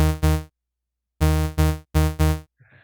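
A sawtooth synth bass pitched down 12 semitones, joined by a sine sub oscillator in Ableton Live, plays repeated short notes in two-note pairs separated by a gap, loud and buzzy with deep low end, ending with a faint trailing noise.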